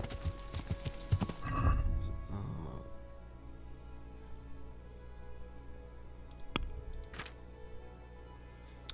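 Horse hooves clip-clop during riding in the video game Kingdom Come Deliverance, a brief loud burst early on followed by quieter background ambience and a couple of sharp clicks later.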